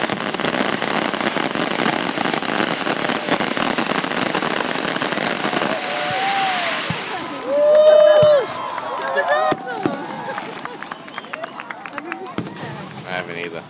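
Fireworks burst close by at a 2012 display, a dense run of sharp cracks and booms followed by whistling, crackling shells, with a crowd and voices audible among the blasts.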